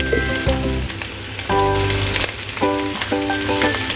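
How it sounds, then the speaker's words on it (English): Cabbage stir-frying with ginger in a pan over medium heat crackles loudly and continuously like rain, with intermittent sharper sizzling bursts and stirring scrapes. "Stir-fry the cabbage just until the leaves turn slightly translucent with crisp tender edges for approximately about 2 to 3 minutes over medium heat"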